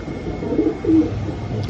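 Pigeons coo softly in low, rounded murmurs, a couple of brief calls over steady background noise in a loft setting, no voices heard.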